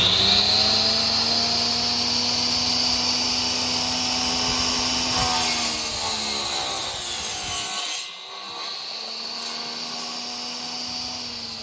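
A power saw with a 10-inch blade whines steadily as it makes a 45-degree cut through wood, the tone holding strong before briefly dipping and resuming near the end.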